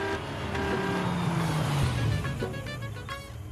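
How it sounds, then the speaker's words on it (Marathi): A car pulls up close by, its engine rumble sliding lower in pitch as it slows, then settling and fading over a few seconds with no talk. "ते बघ गाडी आली"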